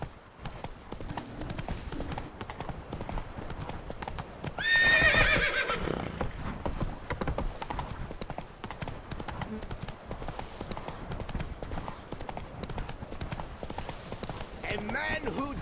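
Horse hooves clip-clop at a steady rhythm in the video game The Witcher 3: Wild Hunt, Blood and Wine, with a brief whinny partway through, all moderately loud under continuous talking.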